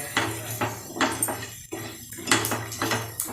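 A spoon tosses fried aloo 65 potato pieces with onions in a bowl, giving a run of close, repeated clinks and scrapes against the bowl with short pauses between strokes. No one speaks.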